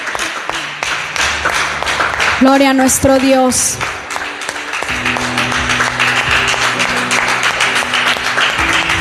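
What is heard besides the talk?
congregation applauding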